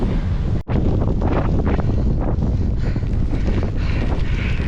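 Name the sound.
strong headwind while cycling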